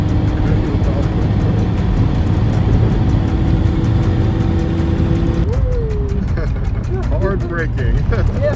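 Nissan R34 GT-R driven hard at Fuji Speedway, a loud sustained engine drone heard from inside under excited talk, shifting in pitch as the car brakes hard and slides through a drift.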